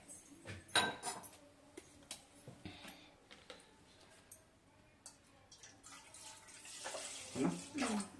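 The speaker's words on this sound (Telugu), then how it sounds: "వాటర్ పోసేద్దాం మనం కూడా సేమ్" Water is poured into a pot while cooking chicken and splashes in uneven bursts, with clinks of a vessel and quieter stretches between pours, fairly close.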